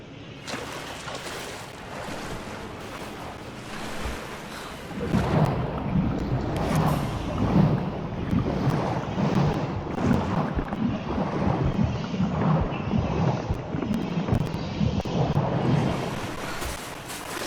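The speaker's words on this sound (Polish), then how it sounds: "O nie, woda." Water and waves in the video game Rise of the Tomb Raider surge and splash, a continuous broad wash that swells louder partway through with rushing, rumbling surf.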